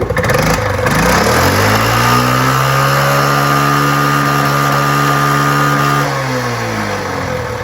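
A Suzuki Z50 minibike engine runs loud and close, revving up to a sustained high whine that holds for several seconds before easing back down.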